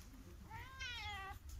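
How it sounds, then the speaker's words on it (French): A blue-eyed kitten at a vet visit lets out one drawn-out, high-pitched meow, close and clear, over a low background rumble. "Oh, il est trop mignon, il miaule."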